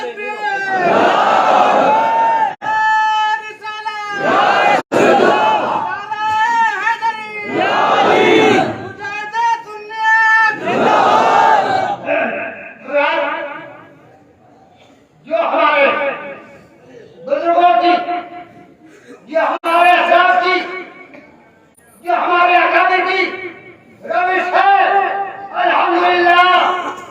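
A large crowd at a religious gathering chants loud call-and-response slogans of Nara-e-Takbir, with massed voices surging in repeated waves separated by short pauses.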